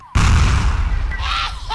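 A grenade goes off in a team-based online shooter match: one sudden loud blast that stays dense and rumbling for over a second, with faint tonal game sounds layered on top near the end.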